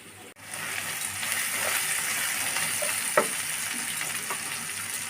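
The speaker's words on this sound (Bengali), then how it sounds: "বানিয়ে নিয়ে এই মশলাটা এখন আমি কড়াইতে দিয়ে দেব" Spice paste (masala) hitting a hot kadai for a spicy dry-cooked meat dish, a steady loud sizzle and hiss that rises sharply and holds, with a few light clinks of utensil against the wok.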